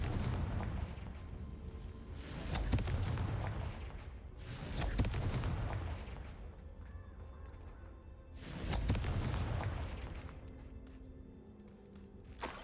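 Confringo explosion spell cast in a Harry Potter video game, heard as three deep booming blasts spaced a few seconds apart, each swelling and rolling off over a low rumbling background.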